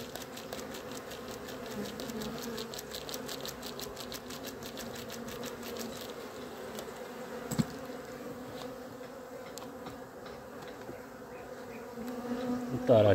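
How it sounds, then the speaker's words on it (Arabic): A dense swarm of honey bees buzzes at an open hive, a steady, close, continuous drone with no pauses and a faint rustle near the end. "لا أنتم شاهدتم النحل الكثيف، صح؟"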